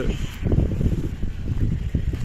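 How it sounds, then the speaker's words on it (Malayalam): Strong gusting wind over open paddy fields at Kannoth, Thrissur, Kerala buffets the microphone in a low, continuous roar that surges and eases, with no voices. "നല്ല കാറ്റ്."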